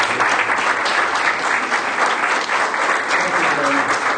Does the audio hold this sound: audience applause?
yes